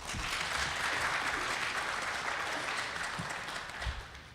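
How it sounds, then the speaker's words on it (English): An audience at a live domestic violence awareness event in Harris County claps for a panel of speakers, producing a sustained, dense round of applause that fades slightly toward the end. "A big round of applause for all of our panelists."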